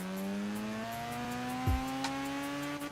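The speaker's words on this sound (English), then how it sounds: "I got it all the way up to max RPM I could do, so you can hear the full range of the engine." A 1997 Mazda RX-7 FD with a rotary engine in Forza Horizon 3, revving in a steady climb toward maximum RPM, its buzzy pitch rising smoothly as the revs build.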